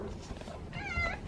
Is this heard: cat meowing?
yes